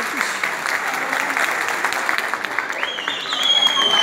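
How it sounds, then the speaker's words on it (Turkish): Wedding guests at a Turkish celebration applaud the groom in a dense, sustained burst, with a whistle-like tone and crowd noise rising near the end. "Alkış."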